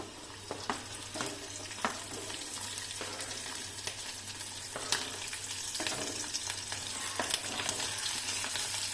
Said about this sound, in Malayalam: ഇനി നമുക്ക് കുനുകുനായിരുന്ന പച്ചമുളക് ഇട്ട് കൊടുക്കാം